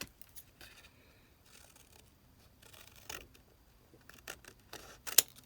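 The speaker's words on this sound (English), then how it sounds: "Let's cut our pieces off of here really quick so we can see what we're doing" Scissors cut fabric pieces off envelope remnants in a few faint, scattered snips and rustles, with a sharper click near the end, quiet and close.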